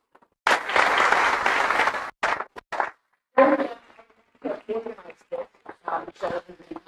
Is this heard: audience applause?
yes